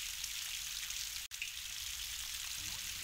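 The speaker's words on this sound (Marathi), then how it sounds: "जोरात पाऊस पडत होता." Heavy rain falls with a dense, even hiss that is briefly cut for an instant before resuming steadily until the end.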